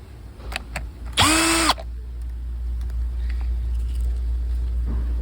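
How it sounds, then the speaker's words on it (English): Power drill backing screws out of the dash clamshell on a sixth-generation Toyota Camry during dash pad removal: one short, loud whirring burst with a rising then steady pitch, close by, followed by quiet background hum. "Then you have 2 screws on your clamshell. Take those out."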